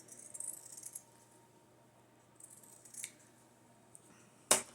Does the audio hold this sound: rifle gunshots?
no